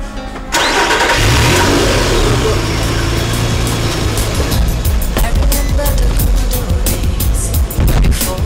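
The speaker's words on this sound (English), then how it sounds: "Start the car!" A car engine turns over and catches, then revs hard and steadily, loud and close, with the roar sustained for several seconds and a few brief voices in the background.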